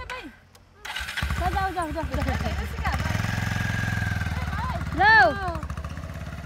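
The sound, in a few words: motorcycle engine starting and running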